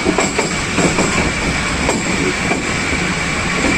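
The Awam Express passenger train runs on rails between Rawalpindi and Peshawar, a loud, dense, continuous rumble with faint rhythmic clicks of wheels over track joints, recorded close from inside the moving train.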